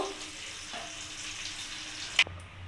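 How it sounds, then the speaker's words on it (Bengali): Cauliflower and potatoes fry in oil with a soft, even hiss, fairly quiet, ending in a sharp metallic clatter near the close. "ফুলকপি আর আলুটা ভালো করে ভাজা হয়ে গেছে"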